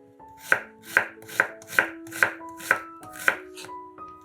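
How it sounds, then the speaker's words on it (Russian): A knife chops an onion into cubes steadily on a cutting board, eight crisp, evenly spaced strokes close up with no talking. "Одну луковицу нарезаем кубиками."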